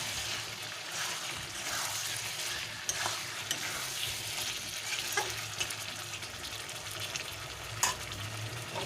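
Chicken liver and gizzard fry in a pan with a steady, fairly quiet sizzle while a utensil stirs them, scraping and clicking now and then.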